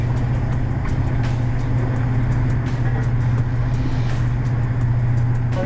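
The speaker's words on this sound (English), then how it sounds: "Now they have start the pump. You can hear the sound." A jet fuel pump drones steadily with a strong low hum and constant mechanical noise, loud and unbroken throughout, with faint clicks on top.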